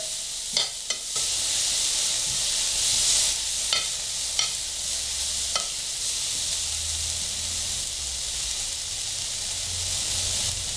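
Half a finely chopped onion fries in a pan for a sauce, giving a continuous loud sizzle broken by several sharp clacks of a utensil stirring against the pan.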